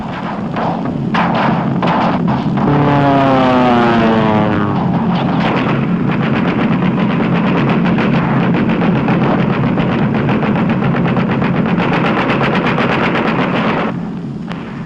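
Loud droning roar of B-17 bomber engines in a World War II raid over Germany, with a heavy engine drone overlaid by rapid staccato bursts like gunfire throughout.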